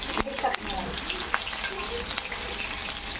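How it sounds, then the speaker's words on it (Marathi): Slit green chillies frying in hot oil crackle with a loud, continuous close sizzle, with a couple of sharp pops and utensil taps near the start. "मी ह्या मिरच्या घेतल्या ह्यालामधून चिरल्या आहेत आणि हे आपण मस्तपैकी तळून घ्यायचं आहे"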